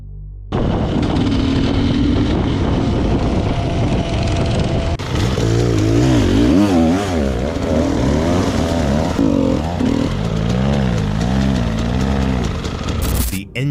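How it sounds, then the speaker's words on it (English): A motorcycle engine bursts into life and revs hard, a loud, continuous roar with rising and falling pitch sweeps over more than twelve seconds, heard close and alone. "The engine screamed to life, echoing like an untamed creature."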